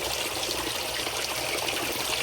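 Water from a DIY filter pours steadily into a tarpaulin crayfish tank, a constant close splashing trickle and gush with no let-up and no voices.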